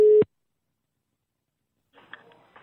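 A telephone busy tone after a call is hung up gives one loud short beep at the start, then silence, followed by faint muffled noise near the end.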